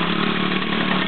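A 450 motorbike engine running steadily, a loud continuous buzzing drone close by with no talk over it.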